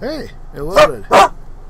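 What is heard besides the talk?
dog barking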